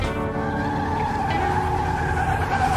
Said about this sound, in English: The car crash.